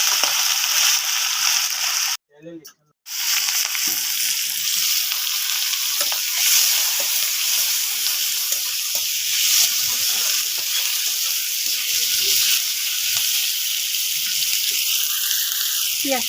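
Onion frying in oil over a home cooking fire, a steady close hiss and sizzle that cuts out briefly near the start, then continues with faint stirring scrapes.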